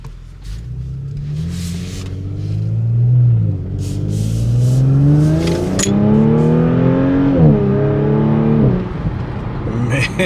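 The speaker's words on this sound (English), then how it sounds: "now that you heard that sweet sound of the exhaust, let's get this thing out for a nice drive." A 2022 Audi S5 Sportback pulls away with a deep, loud exhaust rumble, revving up through rising engine tones and easing between shifts as the car accelerates close by.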